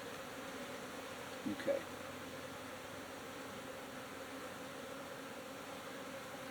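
Agitated honeybees hum in a constant, fairly faint drone around an opened beehive, with a brief clunk and a short word spoken partway through.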